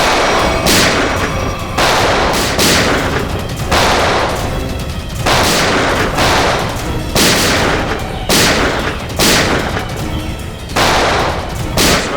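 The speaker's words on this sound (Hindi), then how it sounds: "गोली की चलाई, सुन जाओ।" Gunfire in a Hindi TV crime drama: loud, closely spaced volleys of shots repeat in regular bursts for the whole stretch, dense and echoing with little pause between them.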